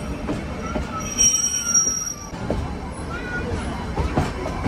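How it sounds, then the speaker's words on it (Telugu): Ooty toy train on the downhill Ooty to Coonoor line, brakes applied hard, giving high steady squeals over rumbling wheels and rattling carriages, with a voice talking over the noise nearby. "సో మన ట్రైన్ వచ్చేసి బ్రేక్స్ అయితే బాగా అప్లై చేస్తున్నాడు"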